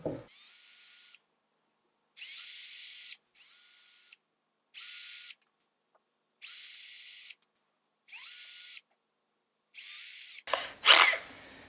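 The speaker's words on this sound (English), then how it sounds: "Drilling some holes now on each one of these" A power drill whirs in repeated short bursts drilling holes in a wooden dowel, separated by silent pauses, seven runs of about a second each, followed by a clattering scrape at the end.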